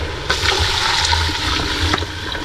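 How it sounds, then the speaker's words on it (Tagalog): Water poured into a pot of sautéed, simmering meat stew makes a loud, close rushing gush that runs for about two seconds before easing off. "Lagyan na natin ito ng tubig."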